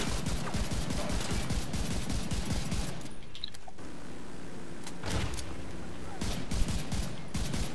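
Turret fire in The Division 2 rattles in rapid bursts, pauses briefly, then resumes with scattered shots, while players talk over the action.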